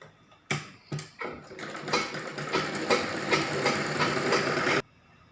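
A sewing machine stitches fabric for a baby frock with piping along the seams. It gives two short starts, then a fast, steady run of rhythmic needle ticking up close, and it cuts off sharply near the end.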